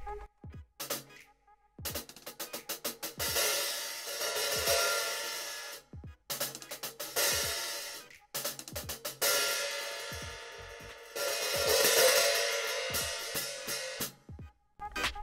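A vintage hi-hat cymbal is struck on a hybrid drum set, with bursts of crisp, bright, shimmering metallic chick and wash strokes in short patterns separated by brief pauses, loud and close, without talk.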